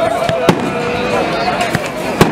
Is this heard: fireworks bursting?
yes